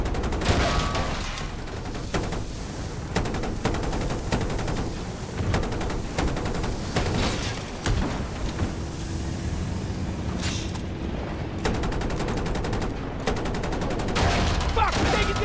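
Gunfire in Battlefield 2042, dense rapid shots and bursts crackling almost without pause over busy battle noise, loud and close throughout.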